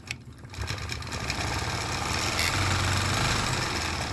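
A Gammill longarm quilting machine stitches swirls, its motor building from a softer start to a steady, close mechanical hum and rapid needle chatter with no voices.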